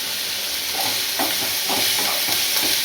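Curry leaves sizzle in a pan of sautéed tomatoes while a moong dal sambar tempering is prepared, a steady close frying hiss with light stirring scrapes and small crackling bursts throughout.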